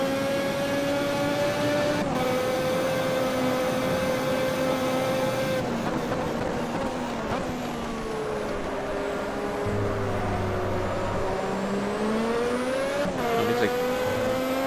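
Formula 1 race cars from the 1988 season, including a turbocharged engine, scream around the Buenos Aires circuit in the racing game Automobilista, with a loud sustained engine whine that shifts pitch through gear changes and corners, other cars audible nearby.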